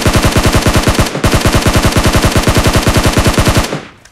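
SCAR rifle fire from PUBG Mobile rattles out in rapid, loud automatic bursts, a brief pause splitting two long strings of evenly spaced shots before the firing stops and fades.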